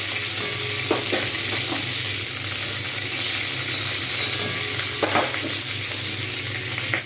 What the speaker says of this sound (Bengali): ফুলকপি একদম পারফেক্ট ভাজা হয়েছে পুরো লাল হয়ে গেছে